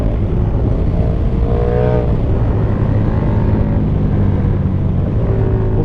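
A KTM Super Duke GT motorcycle engine being slammed down into second gear for engine braking, a loud steady rumble with a brief rising and falling tone as revs change, heard close with no talk.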